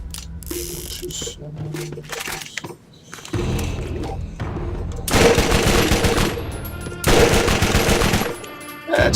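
Rapid bursts of automatic fire from a Cryo Droog gun in Borderlands 1, fitted with a Jacob stock, Hyperion grip and Hyperion scope. Loud, dense clattering volleys come in separated bursts, with a mechanical click between them.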